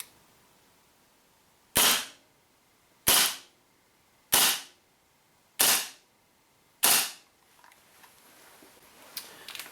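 Five sharp pops from a WE P38 compact gas blowback airsoft pistol, fired at steady intervals of roughly one and a quarter seconds, each crisp and close with a quick decay, followed by faint handling noises.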